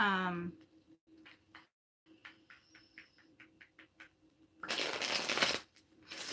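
A deck of cards being shuffled: soft rhythmic clicks of cards, then a loud, dense riffling burst near the end, close and clear.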